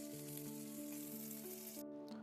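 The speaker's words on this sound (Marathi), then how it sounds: "मांदेलीला मस्तपैकी रवा लावून घेतलेला आणि ते सुद्धा तव्यावरती सोडून ते सुद्धा आपल्याला फ्राय करून घ्यायचे" Mandeli fish coated in rava fries on a hot tawa, giving a steady, close sizzle with a soft crackle throughout, over a faint tonal hum in the background.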